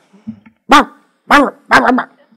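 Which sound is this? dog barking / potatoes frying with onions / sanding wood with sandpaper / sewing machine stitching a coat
dog barking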